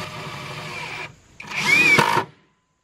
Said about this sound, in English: just putting some little 2-inch screws in here to keep this plywood down